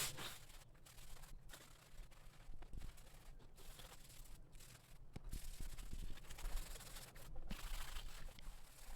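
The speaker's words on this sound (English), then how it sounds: "I went around the camper a couple times with the scrub brush. It's really loosening up the grime on here." A scrub brush works grime off the roof of a 2004 Coleman/Fleetwood Taos pop-up camper in quiet, repeated rubbing strokes with brief breaks between them.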